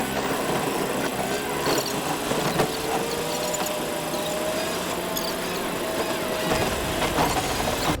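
A car engine hums steadily during a high-speed police chase through city streets, a continuous moderate drone with faint rattles and no break.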